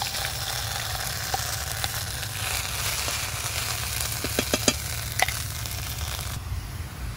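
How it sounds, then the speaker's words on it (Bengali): Cauliflower fries in hot oil with nigella seeds in a continuous close sizzle, broken by a few sharp crackles and pops partway through. "এবার আমি ফুলকপিগুলো দিয়ে দেব।"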